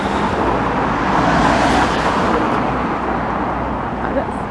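A car passes close by on a street in Blackpool, its road noise swelling to a loud broadband rush and then easing off as it moves away.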